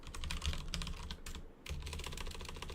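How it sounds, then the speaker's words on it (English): Rapid, close clacking on a computer keyboard runs in quick bursts with one brief pause midway, during a game development live stream. "Why am I typing like that?"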